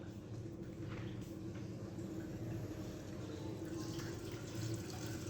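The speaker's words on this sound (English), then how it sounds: "as soon as this valve starts to open, the water makes a passage to flow outwards" Water rushes steadily through the opened valve of a Bernoulli's theorem apparatus, a continuous close broadband flow with a low hum beneath, unbroken for the whole stretch.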